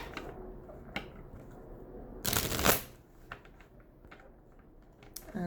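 A new, stiff tarot deck is shuffled by hand, giving soft close clicks and scattered taps, then one loud riffling burst of cards in the middle, all quiet with no talk.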